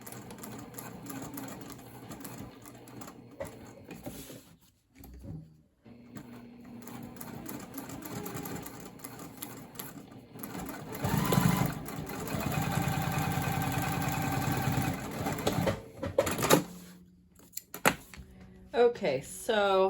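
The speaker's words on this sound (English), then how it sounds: "I'm adding some stay stitches here right at the base where the snap meets up with the flap, just for added security." A home sewing machine runs stay stitches at the base of a snap flap on a fabric crossbody bag, its motor whirring in bursts with short pauses, close by, while a person talks over parts of it.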